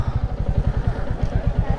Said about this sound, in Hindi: बाइक खड़ी करते हैं।